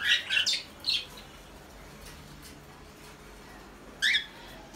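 Pigeons kept in a house at night give short squawking calls, a few brief bursts at the start and another pair near the end, faint against a quiet background.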